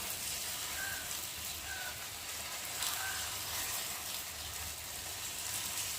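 Pieces frying in hot oil in a pan, a soft continuous sizzle with faint crackles, heard close but quiet and steady, with no talking.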